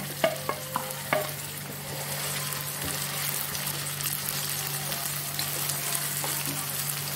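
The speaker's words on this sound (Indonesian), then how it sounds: "Kita hancurkan tomatnya" Boiled tomatoes being crushed in a hot pan, opening with several sharp clicks of utensil on metal, then a continuous sizzle with soft squishing and scraping under a low steady hum.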